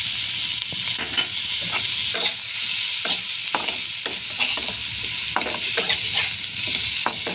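Ginger paste with cumin, chilli and turmeric powders frying and being stirred in a pan, a continuous sizzle broken by frequent scraping strokes and spoon taps, close with no talk.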